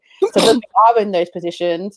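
A single sharp sneeze from someone nearby, loud and brief, cutting in just before a person continues speaking.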